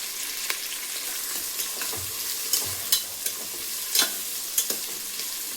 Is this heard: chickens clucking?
no